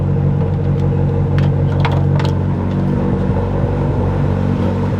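A Nissan S13 car engine idles just after starting, a loud, steady, close rumble that holds evenly throughout with no voices.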